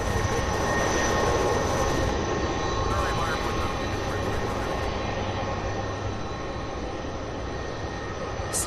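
UPS Airbus A300 cargo jet, a steady engine roar with tonal whine holding at moderate level and easing slightly toward the end, under ongoing talk.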